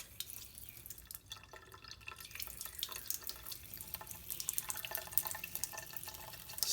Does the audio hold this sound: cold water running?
yes